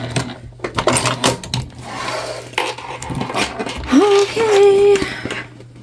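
A sewing machine stitches a tote bag forward and then back a couple of stitches. Close rapid clattering is followed by a rising motor whine near the end.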